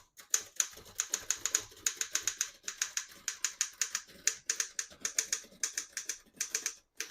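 Brisk, steady typing on a 1938 Royal KMM vintage portable typewriter, with dozens of sharp, close keystrokes in an even rhythm and no voices.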